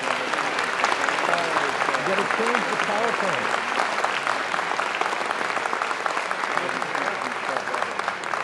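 A convocation audience applauds a guest, a loud sustained roar of clapping from a large crowd, with a voice speaking briefly over it.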